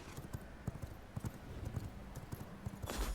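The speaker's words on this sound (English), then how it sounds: "let's get on our horse and run." Horse hooves in the video game V Rising, a steady rhythmic clip-clop of galloping that runs throughout at a moderate, even pace with no talk.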